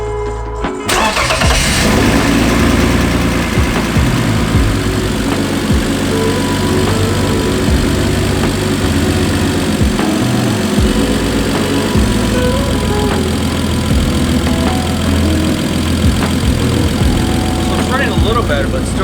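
Turbocharged BMW E46 engine cranking and catching at night, then idling loud and close with an uneven, rough tone for the rest of the clip.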